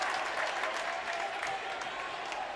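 The St. Mary's home crowd claps and cheers during a high school basketball game against top-ranked Minot High, a steady burst of applause heard from a distance with faint voices mixed in.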